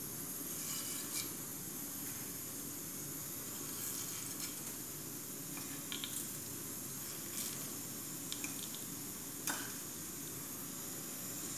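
Mustard seeds, urad dal and chana dal fry in several spoons of hot ghee for bisibelebath. A continuous soft sizzling hiss is broken by scattered sharp pops and crackles throughout, with no speech.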